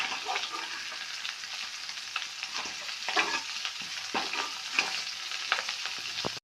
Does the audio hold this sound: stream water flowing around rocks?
no